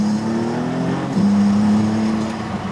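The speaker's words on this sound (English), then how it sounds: "You hear the turbos immediately, and right now we're in Corsa mode, so you're gonna hear it more." Maserati MC20 turbocharged engine accelerating hard in Corsa mode, a loud, steady rising drone heard from inside the car with a brief dip and then a continued strong pull.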